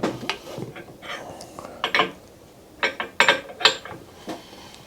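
A BSA motorcycle engine turned over by hand, giving a series of close, irregular mechanical clicks and ratcheting clacks as the parts rotate, with quiet gaps between.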